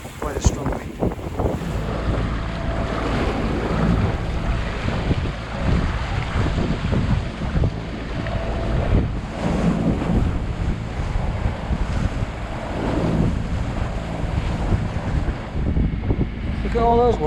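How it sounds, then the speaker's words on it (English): Strong wind buffets the microphone while a sailboat beats along the northeast coast of Sardinia, with waves and water rushing steadily around the hull throughout; a voice speaks briefly near the start. "Doing about 3 knots over the ground against quite a strong wind."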